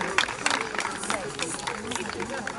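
Audience applauding at a baby celebration during a regional festival, a steady mass of clapping and crowd noise with a voice talking over it.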